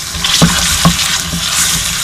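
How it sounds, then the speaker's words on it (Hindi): Chicken pieces with salt, turmeric and chilli frying dry in a pan for a Kashmiri chicken dish, a steady close sizzle with two sharp stirring scrapes and no voices. "थोड़ा सा इसमें भून लूँगी बगैर पानी डाले के"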